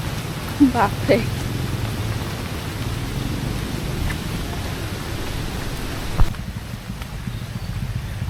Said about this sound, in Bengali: বৃষ্টি আরো জোরে নেমেছে